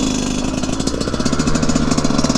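Yamaha YZ144 dirt bike engine with a thumb throttle, revving hard on launch: a loud, close, rapid pulsing two-stroke buzz that climbs as the bike pulls away.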